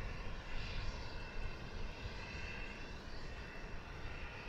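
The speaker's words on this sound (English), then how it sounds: "Got a flight from El Paso approaching." A passenger airplane inbound from El Paso on approach to DFW Airport, its engine roar steady and broadband throughout, fairly close and continuous with no talk over it.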